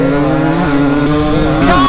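Several dirt bikes, including 2021 and 2022 250s and a 2022 150 XCW, revving hard off the starting line together, a loud, dense layered engine roar rising in pitch with no speech over it.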